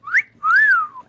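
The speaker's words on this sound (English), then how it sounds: "Buy your own whistle." A whistle sounds close and loud in two bursts: a quick upward chirp, then a longer tone that rises and slides back down, all within about a second.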